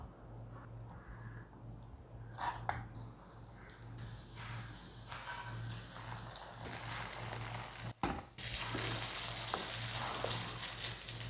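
Ten cashews, ten almonds and a handful of raisins fry in about two tablespoons of ghee for pongal, a close, continuous sizzle with stirring scrapes, briefly cut off near the end before returning louder.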